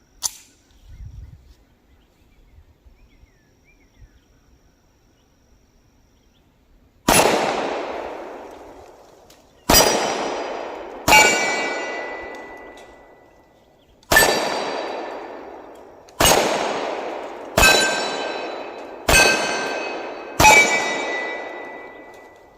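A Tisas 1911A1 Service pistol fires eight sharp, loud shots at a shooting range, spaced irregularly with ringing decay after each, following a quiet stretch.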